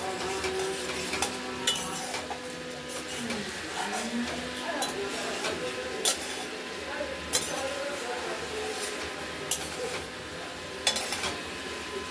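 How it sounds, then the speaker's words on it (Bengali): Spice paste frying slowly in oil for a paneer bora curry with potato and tomato, a low continuous sizzle punctuated by clinks and scrapes of a stirring spoon against the pan, with a voice talking throughout. "মশলাটা ধীরে ধীরে কষানোতে তেলটা বেরোচ্ছে, দেখতেই পাচ্ছেন।"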